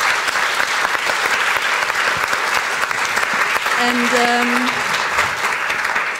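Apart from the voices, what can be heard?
big round of applause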